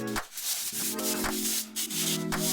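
Abrasive sanding strokes scrape across bathroom walls during a DIY renovation, a steady rasping rub with brief pauses between passes, close up and loud, with a faint tonal hum running underneath.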